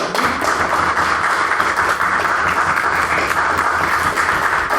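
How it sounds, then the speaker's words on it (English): An audience at an evening debate applauds a maiden speech, a dense, loud and steady wash of clapping that holds from start to finish with no voices. "I think we should all give him a round of applause for his maiden speech."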